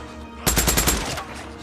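A rapid burst of automatic gunfire in the video game Days Gone bursts out after a brief quiet moment, loud and close, then fades into ringing echo.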